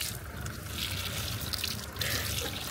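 Tap water running in a roadside stop along the Madan Bhandari Highway near Bhedetar, Nepal, a steady, fairly faint trickle and splash continuing throughout without a break.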